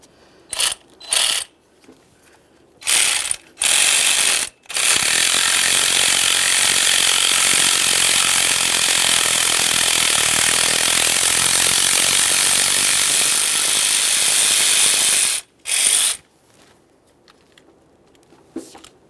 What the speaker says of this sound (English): Go ahead and remove the nut and that plastic bracket